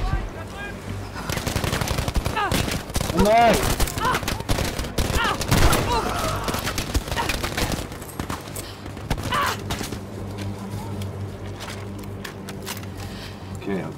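Rapid automatic gunfire from a weapon in the video game Battlefield 5, sustained bursts mixed with game sound effects and a voice talking over it.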